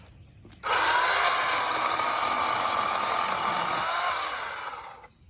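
A Craftsman 8-amp 14-inch corded electric chainsaw bursts into a loud, close, buzzing whine as it bites into wood, cutting steadily for about four seconds before winding down.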